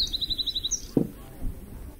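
Birds chirp at dusk among olive trees: a fast run of repeated high tweets comes first, then a single sharp knock and quieter sounds follow at moderate distance.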